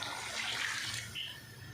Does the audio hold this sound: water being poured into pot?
yes